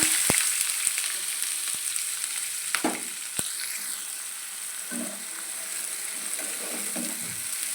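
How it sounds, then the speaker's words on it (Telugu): Onions, green chillies and curry leaves frying in hot oil for a prawn curry, a steady sizzle with a few sharp clicks and spoon scrapes against the pan. "ఉల్లిపాయ అంతా బ్రౌన్ కలర్ వచ్చినంత వరకు మనం వేసుకున్నాము"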